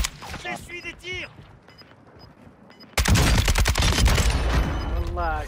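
Gunfire in a multiplayer video game shooter match: sparse shots at first under a player's voice, then a sudden loud sustained burst of rapid automatic fire and explosions, with speech continuing over it.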